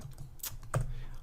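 Keys on a computer keyboard are tapped a few times quietly and close by, a short burst of soft clicks with no talk.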